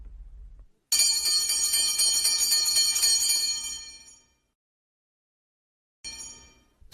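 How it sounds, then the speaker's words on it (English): A bright, loud school bell rings continuously for about three seconds, fades out, then silence before it starts ringing again at the end. "the school bell is ringing"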